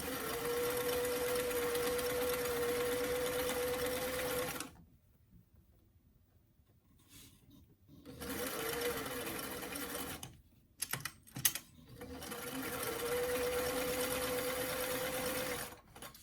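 Sewing machine stitching the side seam of a small BJD doll dress, a close, steady buzzing run that stops, gives a few brief stitches with ticks, then runs steadily again.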